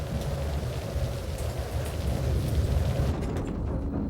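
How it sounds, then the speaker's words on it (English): Heavy rain pounding an airport during a thunderstorm, a dense, loud, continuous roar of downpour with low rumbling beneath, fading toward the end, no voices. "Right now we have heavy rain on the airport."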